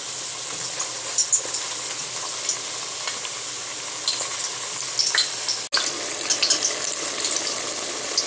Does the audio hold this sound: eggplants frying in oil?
yes